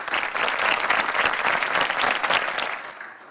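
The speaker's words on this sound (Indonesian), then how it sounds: "Sekali lagi boleh izin kita berikan tepuk tangan yang paling meriah untuk semua kita." Hearty applause from a large audience at an anniversary celebration of Indonesia's financial services authority, dense and sustained clapping for about three seconds before fading out.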